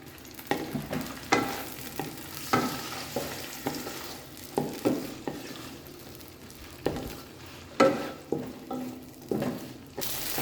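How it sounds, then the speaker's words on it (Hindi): Boiled chickpeas and black raisins fry in ghee with a soft sizzle, punctuated by rhythmic scraping stirs of a spoon against the pan roughly every second; no talking. "चने और मेवे जो है हमारे अच्छी तरह से भुन चुके हैं घी में।"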